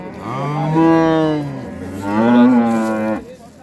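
A hybrid dairy cow at a livestock market gives two long, loud moos in a row, each low and drawn out, close by with no talk over them.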